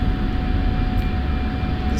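An F-16 fighter jet taxiing in the DCS flight simulator, a steady loud engine drone with a low rumble and a constant whine, unbroken throughout.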